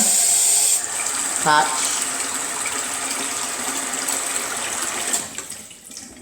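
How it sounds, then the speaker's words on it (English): Rinse water poured gently off rice from a pan into a sink, a steady running splash held for several seconds, with a brief spoken word partway through. "you can pour that water, but you got to pour it gently so your rice don't spill"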